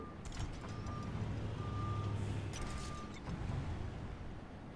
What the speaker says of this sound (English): The tow truck again.